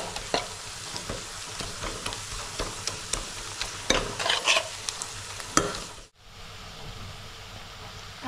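Finely chopped ginger is sautéed and stirred in a pan, with a steady sizzle and repeated scraping stir strokes close up, then a brief drop to quieter frying.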